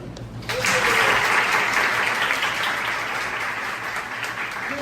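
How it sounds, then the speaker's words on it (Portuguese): Sustained applause from an audience filling an auditorium at an inaugural class celebrating fifty years of a social work course; the clapping begins abruptly after a brief lull and stays loud and dense to the end. "Palmas para vocês agora."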